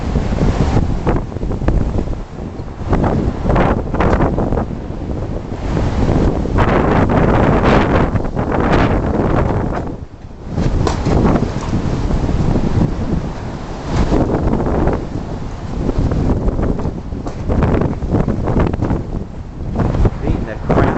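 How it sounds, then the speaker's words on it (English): Strong wind buffets the microphone outdoors on a windy California day, loud and continuous with roaring gusts, briefly easing before surging again. "Look windy enough for you?"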